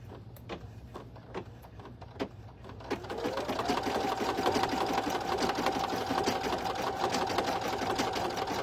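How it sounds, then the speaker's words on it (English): An embroidery sewing machine stitches out a spiderweb design on an in-the-hoop bow, starting with a few sparse clicks and then settling into a steady, close, continuous mechanical hum with a rapid needle rhythm. "step 2 is going to stitch out the spiderweb portion"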